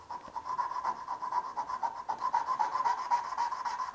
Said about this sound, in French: la scie à chantourner, je la descends dans le trait de scie qu'on a fait tout à l'heure.